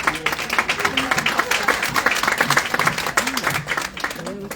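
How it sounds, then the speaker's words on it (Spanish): Sustained applause from a forum audience welcoming a panelist at a tourism conference on air connectivity, dense steady clapping filling the hall at fairly loud level throughout, with faint voices mixed beneath. "de Arturo Casinelli, que es el CEO de Talma, que lo recibimos con un fuerte aplauso"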